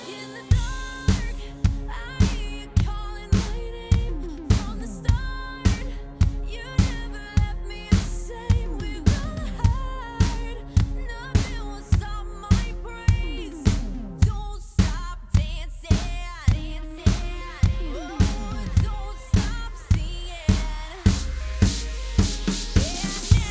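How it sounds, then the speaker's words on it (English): Steady four-on-the-floor drum beat with a kick on every beat and snare hits, repeating evenly throughout with ringing tonal layers above. "we're just going to do a four on the floor with the snare"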